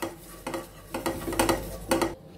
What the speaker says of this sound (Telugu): ఒక టేబుల్ స్పూన్ తెల్ల నువ్వులు మీడియం ఫ్లేమ్లో వేయించుకోవాలి